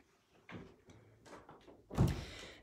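Closet double doors in a house in Northbrook swing and shut, with a couple of soft knocks and slides followed by a louder hollow thump near the end, close by in a quiet room.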